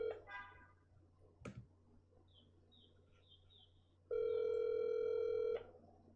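A telephone ringback tone sounds once as a steady electronic buzz after a click and faint chirps, clear and close, over quiet background hum.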